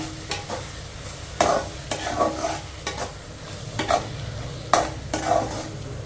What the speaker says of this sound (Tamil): ஸோ இப்போ நல்லா கலந்து விட்டுக்கலாம்